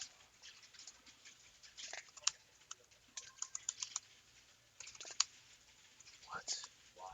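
Typing on a computer keyboard at a classic Tetris qualifier event: rapid, uneven key clicks and a few sharper taps come in bursts, fairly close, with people talking intermittently around them.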